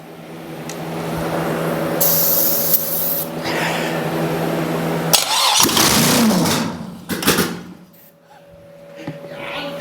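Ether sprayed into an engine as it cranks over, a long hissing spray over a steady mechanical starter churn, then louder broken bursts and a fading turn; a voice is briefly heard.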